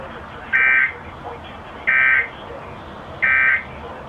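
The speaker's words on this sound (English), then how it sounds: "this has been a test of NOAA radio's warning device" Three identical loud alert tone bursts from a NOAA Weather Radio warning device test, evenly spaced about 1.3 seconds apart, each a steady piercing beep lasting roughly a third of a second over a background of broadcast hiss.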